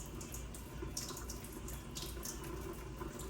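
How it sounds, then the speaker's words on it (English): Running tap water splashes over hands scrubbed at the wrists during a nursing hand-washing demonstration, a steady close stream with faint rubbing and splashing. "Lastly, we are going to wash the wrist rotationally."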